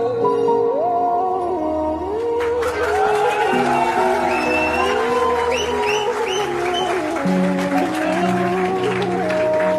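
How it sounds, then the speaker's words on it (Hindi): Audience at a motivational talk clapping and cheering loudly, a dense crowd roar with whoops and shouts blended with tonal music over the whole stretch. "तालियां रुकनी नहीं चाहिए।"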